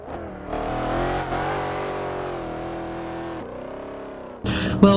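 Mercedes SL65 AMG Black Series engine in the Assetto Corsa racing game, revving up loudly and holding a sustained roar, easing off near the end before a sharp burst of noise closes it out.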